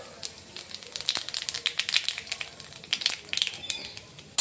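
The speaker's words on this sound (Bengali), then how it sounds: "আর তেল গরম হয়ে গেছে। এর ভিতরে এখন দিয়ে দিব কালো জিরে" Nigella seeds hit hot oil in a pan already used for frying eggplant, giving a light, fast crackle of small pops and sizzles that is fairly quiet and continuous, ending in a sharper burst.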